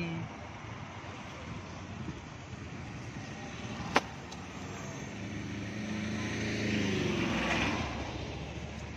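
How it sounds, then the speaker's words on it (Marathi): A tempo vehicle drives past outdoors with a steady rushing rumble, partly masked by wind noise on the microphone, that swells toward the end as it goes by, with one sharp click midway. "टेम्पो गया."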